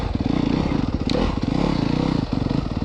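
A 2024 Yamaha YZ250FX dirt bike engine pulls hard under throttle, a loud, close, raspy buzz with rapid pulsing and brief clatter as it accelerates.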